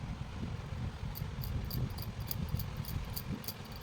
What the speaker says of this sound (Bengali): নিস্তব্ধ পরিবেশ, বাইরে ঝিঝি পোকার ডাক